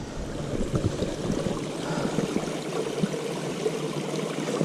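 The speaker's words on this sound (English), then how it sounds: "Nice mountain stream." A low-water mountain stream flows over rocks on a hiking trail, giving a steady, even rushing wash with no voices.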